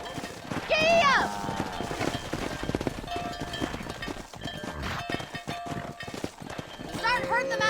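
Horse hooves clip-clopping at a gallop in Red Dead Redemption on a ranch while cattle are herded out of a pen, a steady rhythmic patter running throughout, with a whinny and shouted voices over it.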